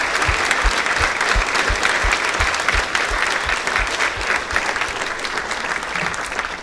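A crowd at a State of the City address applauds military members in loud, continuous clapping, with a steady run of low thumps pulsing beneath the first two-thirds.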